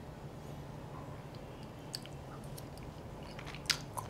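Someone eats soy honey chicken topped with sesame seeds and spring onion, making faint close chewing and a few soft bites and squishy mouth clicks over a low, quiet background, with no talking.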